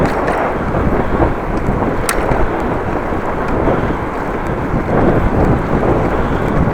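Strong wind buffeting a microphone on a windy morning bike ride, a loud continuous low rumble with gusty surges, close and unbroken, no talk.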